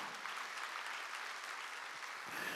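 Quiet, continuous congregation applause during a church worship service, a steady wash of clapping heard at a distance.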